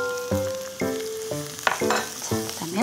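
Chopped onion and carrot stir-fried in a pan, with sizzling frying bursts coming in several separate rounds as pieces are stirred and tossed, close and moderately loud, with clattering utensil noises.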